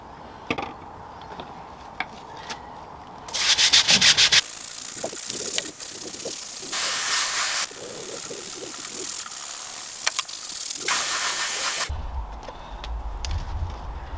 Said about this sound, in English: Let's clean the wall of the tyre. As normal, I'm using Adam's Tyre and Rubber.